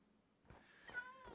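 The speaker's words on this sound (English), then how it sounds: "Why do I hear a cat?" A cat meows faintly a couple of times in a quiet room, with soft, distant-sounding calls rising out of near silence.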